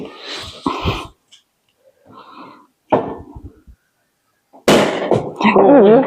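A bottle cork pops out sharply after quiet moments and scattered voices, followed by people talking loudly and a rising exclamation.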